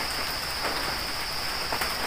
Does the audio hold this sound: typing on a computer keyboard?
no